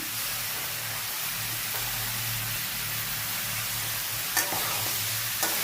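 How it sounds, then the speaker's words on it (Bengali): Papaya, prawns and chickpeas sautéing in a pan, a steady close sizzle with soft stirring underneath and a couple of sharp utensil clicks near the end. "একটু সবজিগুলো ভালো করে কষিয়ে নিই"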